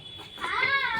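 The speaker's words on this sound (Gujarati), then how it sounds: "બિલાડીના બચ્ચા છે." Kittens meowing: a short, faint, high-pitched mew rising and falling over quiet background noise, with no talking.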